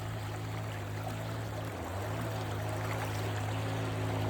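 A river current runs in Burgos, a steady, even rush of water heard up close with no break across the whole stretch.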